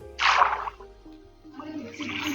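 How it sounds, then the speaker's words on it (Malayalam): Water placed in a block-building video game makes a brief gushing splash that swells and fades within half a second, followed by quieter game ambience. "ആദ്യം ഇവിടെ വെള്ളം വെച്ച്"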